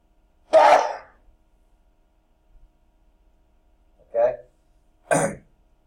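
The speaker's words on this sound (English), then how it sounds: "I've got to sneeze." Three separate sharp, breathy sneeze-like bursts from a person in a lecture setting, loud and close, the first one longest, with silence between them.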